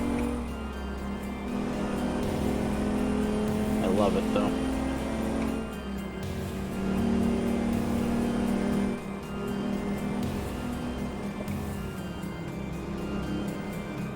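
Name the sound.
truck engine in American Truck Simulator video game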